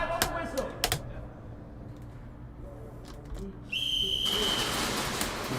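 A referee's whistle starts an airsoft round at a speed QB regional championship, one sharp sustained blast near the end, following a flurry of clattering clicks and a noisy background.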